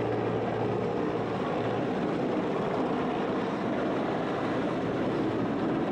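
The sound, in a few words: army helicopter hovering over city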